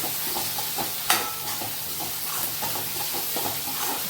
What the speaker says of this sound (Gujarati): થોડીક વાર સરસ મજાનું હલાય કરવાનું.